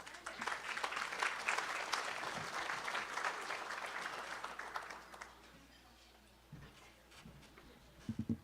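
Audience applause welcoming the MC at a school awards ceremony and Hall of Fame induction at Highland High School, a steady round of clapping for about five seconds that fades, then a few scattered claps near the end.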